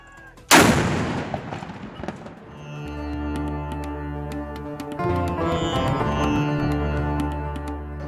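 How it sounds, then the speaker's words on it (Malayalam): A ceremonial cannon in the UAE fires to mark iftar time, one sudden loud boom that rolls away in a long echo, followed by sustained tonal sounds in the background. "ഇഫ്താർ സമയം അറിയിക്കാൻ മുഴങ്ങുന്ന പീരങ്കി വെടി കൗതുക കാഴ്ചയാണ്"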